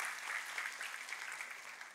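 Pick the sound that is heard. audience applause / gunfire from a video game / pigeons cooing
audience applause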